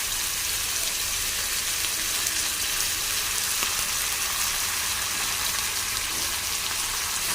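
Sauces such as tomato ketchup sizzle and fry steadily in a pan with onion and capsicum for chilli chicken, a continuous close hiss with no talking.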